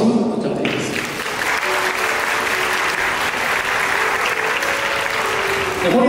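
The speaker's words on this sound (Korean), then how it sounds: "축복의 박수" Wedding guests in a hotel grand ballroom applaud the couple after their vows, a loud, continuous wall of clapping from a large crowd with some voices faintly mixed in.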